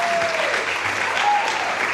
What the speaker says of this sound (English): give them a big warm round of applause